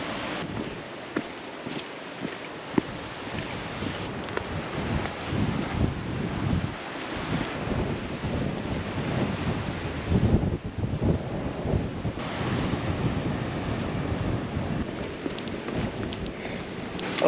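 Wind buffets the microphone beside the Gulf of St. Lawrence on a rocky shore in Gros Morne, with a continuous rumbling wash of ocean surf rolling underneath, loud and steady throughout.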